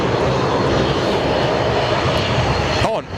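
A Jetstar airliner passes close by at Sydney Airport with a loud, steady roar of jet engines that holds for several seconds and then drops off abruptly as it goes past.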